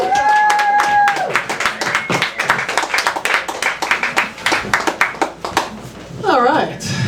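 Audience applause and scattered clapping at a comedy open mic, loud and sustained, with cheers and a voice over the start and whoops near the end.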